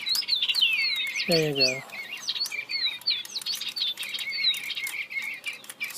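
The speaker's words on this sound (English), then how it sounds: "they are actually called digibirds. So they sing, they make bird sounds, and they move their head." Digibird toy birds chirp and tweet in quick, bright electronic bird calls, close and continuous, with a brief spoken remark over them partway through.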